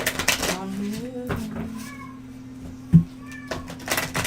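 A pet cat meows a few times in short, drawn-out calls, fairly close, with a person's voice talking in between.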